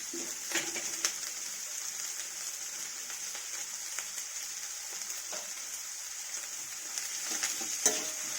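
Vegetables sauté in a pan for a vegetable curry with a pinch of salt, giving a steady, soft sizzle. Occasional scrapes and taps of a stirring utensil break through the hiss.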